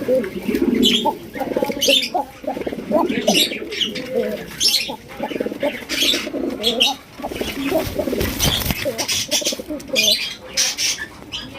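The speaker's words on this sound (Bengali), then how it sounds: "এটাও বাসিরাজ কবুতর" Basiraj pigeons at a farm coo steadily in a dense flock, with layered burbling calls, scattered chirps and occasional rustles all through, close and fairly loud.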